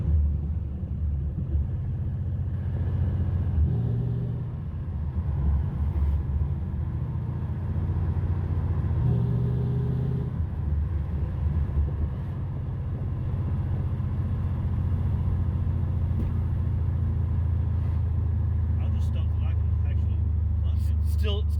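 A 1967 Pontiac GTO rumbles along from inside the cabin, its engine droning low and steady with rises in pitch as it works through gears, while people talk over it throughout.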